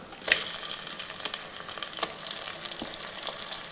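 Mutton pieces hit a pan of sautéed onions and curry leaves for mutton kuzhambu, giving a steady close sizzle with a few sharp spatters and light stirring clicks; nobody speaks.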